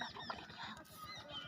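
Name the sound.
bird calling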